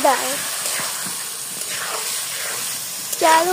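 Rice and lentils frying in a pan for vegetable khichuri, a steady sizzling hiss throughout with brief stirring sounds at the start and end.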